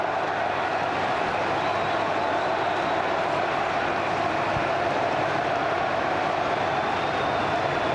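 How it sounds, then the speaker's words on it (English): Loud, steady roar of a cricket stadium crowd cheering at a New Zealand versus Australia one-day match, a dense unbroken wash of noise with no clear breaks. "The crowd are going berserk"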